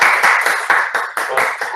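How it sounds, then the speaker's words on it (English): Hands clapping for a participant at a medical college Olympiad event, a quick irregular series of about eight close claps over roughly two seconds with no talk. "let me put a clap here for him"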